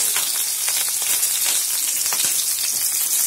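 Crushed garlic and green chillies frying in a pan make a steady, bright sizzle with crackling pops, close and continuous with no talking.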